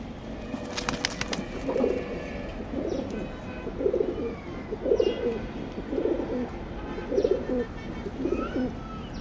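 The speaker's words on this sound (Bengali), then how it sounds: "এটা হলো তিন নাম্বার একটা মাক্সিনর একদম বিদেশি স্টাইলের কবুতরটা পাইড" Pigeons coo in a repeated low rhythmic pattern, close by, with a brief rattling sound early on, at a pigeon seller's.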